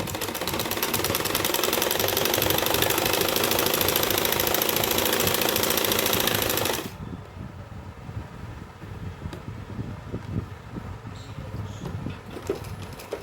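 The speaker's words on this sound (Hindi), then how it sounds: "फिर इसको किनारी किनारी पर लगाएंगे सिलाई" A sewing machine stitching along the seam edges of palazzo trousers whirs loudly and continuously for about seven seconds, then stops, leaving only faint handling noises.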